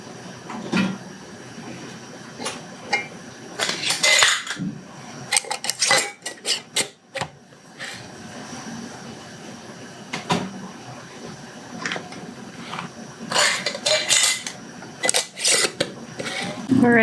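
Glass canning jars clink and knock as they are set into a pressure canner, with scattered sharp clatters and metallic rattles between softer handling sounds and pauses.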